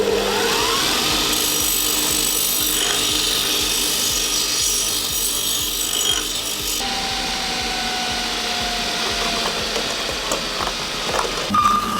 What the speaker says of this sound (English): So I'm super glad to have this bandsaw in my arsenal.